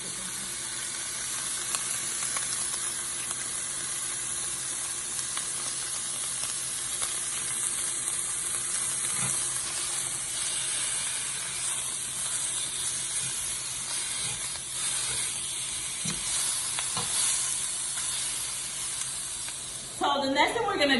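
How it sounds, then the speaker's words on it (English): A steady, close sizzle of steak frying in a pan on the stove runs throughout, a constant hissing bed with faint crackles and a brief clatter near the end. "Hear that sizzle."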